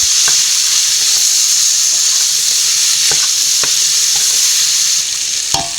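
Cassava and beef fry in a pan with a continuous loud sizzle, broken by occasional sharp scrapes and knocks from a stirring utensil, and no talking.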